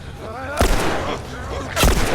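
Two loud, booming gunshots ring out about a second apart in The Last of Us Remastered, each with a short echoing tail, while a voice talks excitedly between them.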